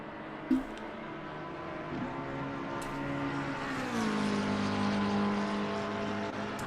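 A GT3 race car engine in Assetto Corsa Competizione drones steadily at close range, its pitch sliding down then holding, with a short sharp tick near the start and a few faint clicks. No voices are present.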